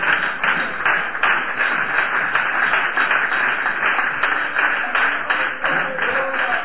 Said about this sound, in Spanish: Denle un aplauso al Señor en esta